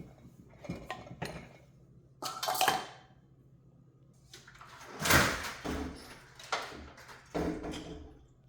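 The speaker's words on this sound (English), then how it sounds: "I gotta get a new screen door" A worn sliding screen door slides and rattles several times, with clattering bangs and scrapes spaced out across the clip, close by and fairly quiet.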